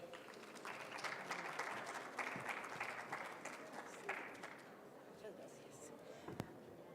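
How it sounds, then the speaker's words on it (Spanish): Applause from a medical conference audience greeting a nursing speaker, a dense wash of clapping that fades after a few seconds into quieter room noise, with faint voices underneath. "Un aplauso, por favor."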